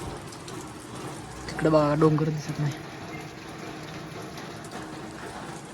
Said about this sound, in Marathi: पाऊस चालू झाला